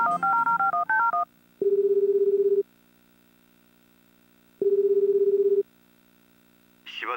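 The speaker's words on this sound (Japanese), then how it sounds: "芝くんに電話しよう。" In the video game Tokimeki Memorial Girl's Side 2nd Kiss, a quick run of telephone keypad dialing tones is followed by two long, steady ringback tones. The sound is clean, synthetic and loud, with no voices until a short sound at the end.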